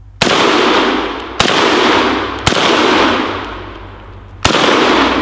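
A rifle fires at tin cans outdoors in four separate loud, close shots at uneven intervals, each crack followed by a long echoing decay with faint metallic pings.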